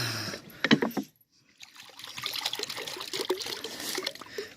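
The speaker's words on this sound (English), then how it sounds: "don't nudge me when I'm pouring water" A short trickle of liquid pouring, pausing briefly, then a longer steady stream of water poured close by.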